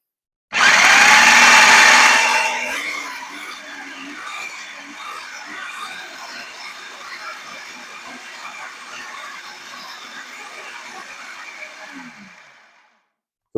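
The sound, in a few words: food processor grinding olive tapenade ingredients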